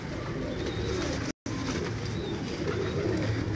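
Purple-footed pigeons coo softly and steadily against a busy, noisy background, one brief dropout breaking the sound partway through.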